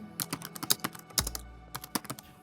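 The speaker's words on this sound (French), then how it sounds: "je peux taper directement avec mon clavier le texte" Quick, uneven bursts of clicking keys as text is typed on a computer keyboard, close and fairly quiet, with a brief pause midway.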